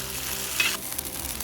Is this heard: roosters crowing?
no